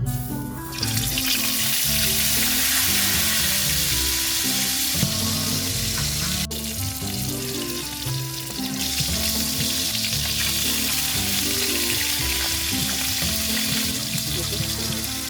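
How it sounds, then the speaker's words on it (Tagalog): Hot oil in a pan fries food with a loud, continuous sizzle and crackle, steady and close throughout, with a few clinks of utensils and no speech. "Pagkatapos ay nagpainit na ulit ako ng kawali at inilagay ko na tong mantika para makapagprito na."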